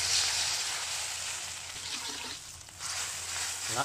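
Continuous hissing sizzle of seasoning liquid hitting a hot pan of stir-fried chili and garlic, close and fairly loud, with faint stirring underneath.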